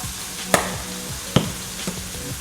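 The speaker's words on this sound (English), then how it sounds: "So as our scallops cook, I'm gonna add in 2 more tablespoons of butter" Scallops cook in butter in a pan for scallop scampi, a soft steady sizzle broken by three sharp clacks of utensil or ingredients hitting the pan; no talking.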